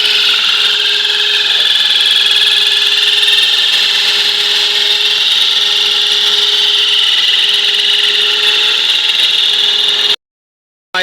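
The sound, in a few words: glass being cut at hardware store for aquarium lid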